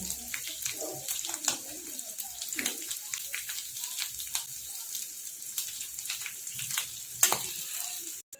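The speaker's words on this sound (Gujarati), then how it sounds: "થોડી વાર આપણે એને ફ્રાય થવા દઈશું। બટાકા ફ્રાય થઈ ગયા છે।" Potato pieces frying in hot oil for aloo chaat, a steady soft sizzle and crackle with occasional louder pops, close by and continuous.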